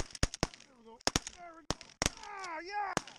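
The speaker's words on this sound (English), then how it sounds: "That's some shooting right there." Shotguns fired at geese during a goose hunt, a rapid cluster of loud close blasts in two bursts with a final shot, while voices shout and cheer between them.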